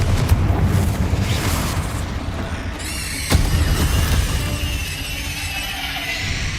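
Hogwarts Legacy's Confringo blasting spell erupts with a heavy, rumbling roar. A sharp burst lands about halfway through, and a sustained crackling wash of debris and echo follows it.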